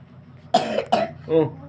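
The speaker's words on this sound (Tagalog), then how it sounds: "Nag-ubo siya mga kalangga." Two short, sharp coughs in quick succession, followed by a brief voiced throat-clearing sound, close and fairly loud.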